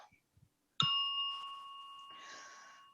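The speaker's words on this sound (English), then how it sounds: "I ring a bell for the Dharma, the teachings, life itself." A single bell is struck once during a Buddhist Dharma talk, a bright, clear strike that rings on with a long, slowly fading tone in a quiet room.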